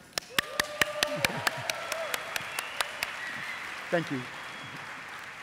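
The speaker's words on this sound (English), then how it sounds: "and again, a big applause for Maggie." A small audience at an essential oil talk gives Maggie a round of applause: sparse, sharp individual claps in a steady rhythm that fade out, then a brief spoken thanks.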